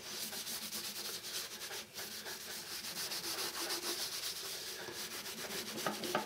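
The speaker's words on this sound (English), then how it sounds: "I'm going to get a little bit of this Shadazzle and start kind of lightly polishing" Stainless steel being lightly polished with Shadazzle cleaner, a continuous close rubbing and scrubbing with a quick back-and-forth rhythm and no talking.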